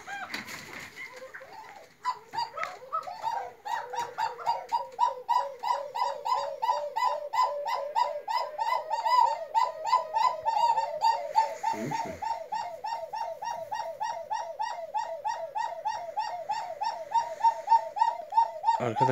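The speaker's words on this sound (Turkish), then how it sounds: "öten kumru benim diğer evde çıkan yavrular" Collared doves cooing close by in a village, a long run of rhythmic repeated coos that continues almost without pause, clear and moderately loud.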